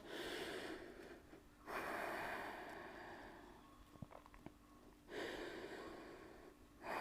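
Slow, deep breaths taken while holding a yoga stretch: long airy inhales and exhales in steady alternation, close and fairly soft, with a few faint taps between them.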